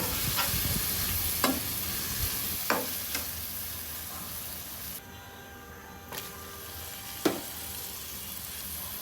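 Shredded salted dried fish tossed with salt in a pan, giving a steady sizzling, scraping stir with a few sharp clinks of the utensil against the pan.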